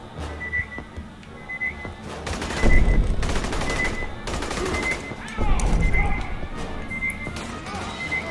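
Rapid bursts of automatic gunfire in the sci-fi shooter Aliens: Colonial Marines, loud and dense in repeated volleys, with game effects and distant whistling tones under occasional talk.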